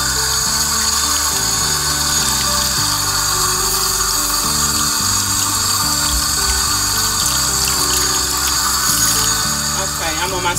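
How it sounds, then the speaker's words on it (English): Tap water runs steadily and loudly into a salon sink as relaxer is rinsed out of a client's hair, a constant splashing wash that fills the whole stretch, with harmonic tones underneath. "And now I'm getting ready to rinse."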